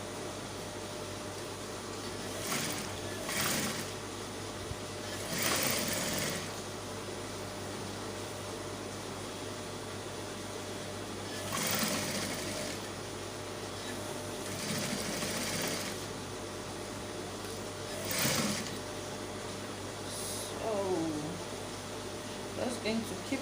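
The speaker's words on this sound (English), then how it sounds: "just going to keep sewing till you get to the other end." A sewing machine stitches a bodice to a skirt at a half-inch seam allowance, running in steady whirring bursts separated by short pauses, heard up close with a constant background hum.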